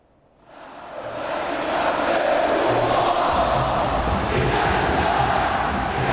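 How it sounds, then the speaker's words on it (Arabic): A large volleyball crowd's roar swells in quickly and holds at a loud, steady wash of cheering and noise. "سمعنا صوت الجمهور"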